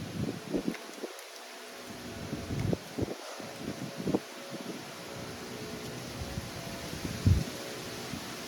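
Wind blowing outdoors, a steady broad rush with gusting low buffets against the microphone, fairly close and continuous with no talking.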